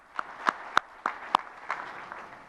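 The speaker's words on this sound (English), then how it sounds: "Big round of applause for Congresswoman Sanchez." Sparse scattered clapping from an audience at a political event honoring a congresswoman, a handful of distinct claps at moderate distance thinning out over a couple of seconds.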